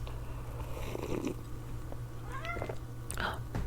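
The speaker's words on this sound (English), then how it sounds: "My cat's coming to visit." A cat purrs close by in a quiet indoor room, a steady low rumble running throughout, with a few soft higher chirps and rustles on top.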